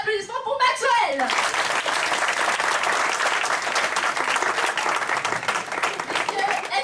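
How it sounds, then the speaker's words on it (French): A brief voice opens, then an audience breaks into lively, sustained applause at a science outreach event, clapping evenly and loudly to the end. "Tenez un applaudissement pour Maxwell"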